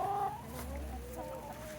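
A chicken clucks in a summer farmyard kept with goats. A steady run of close, murmuring clucks goes on with no talking.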